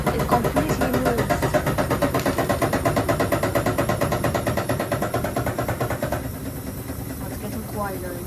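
Washing machine loaded with snow rattles and thumps in a fast, regular pulsing rhythm, loud and close, then drops quieter after about six seconds as a voice talks over it.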